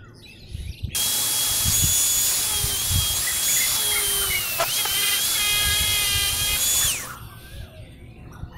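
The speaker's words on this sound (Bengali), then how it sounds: "এটাকে প্রথমে কাটতে হবে ড্রিল দিয়ে।" A power drill whines steadily for about six seconds as it cuts a circle for a homemade wind turbine model, then stops, with no talk over it.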